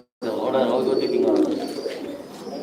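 Fancy king pigeons at a loft in Sylhet, cooing close by in a low, rolling, throaty coo that swells and then fades over a couple of seconds.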